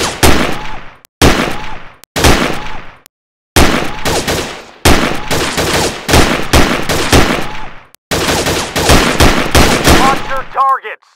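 STG44 assault rifle firing in Gun Club VR, loud close bursts of rapid shots in several strings separated by short silences, ending with a few metallic clicks.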